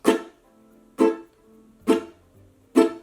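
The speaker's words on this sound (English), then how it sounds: "strum down and immediately follow with the palm." Four evenly spaced ukulele strums, each a bright downstroke cut short by a palm mute into a dull chuck, with near silence between.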